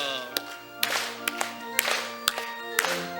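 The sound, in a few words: congregation clapping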